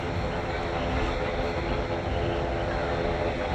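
A Canada Airbus A330 taxis at Manchester Airport, heard as a dense, continuous roar of jet engine noise that stays loud and steady the whole time, with no clear voices over it.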